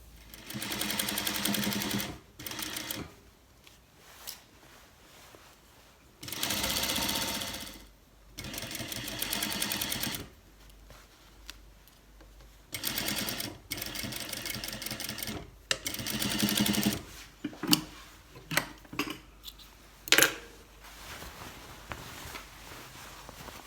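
A sewing machine stitches a waistband onto cargo pants in several loud, steady whirring bursts separated by pauses, with small clicks and handling noises between runs.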